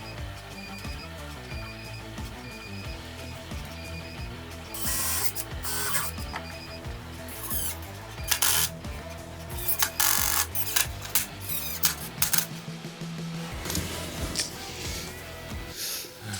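Pre-drilling holes and driving screws into a workbench cabinet with a power drill: bursts of whirring motor, stop-and-start pulses with louder trigger runs in the middle, close and alone with no talk.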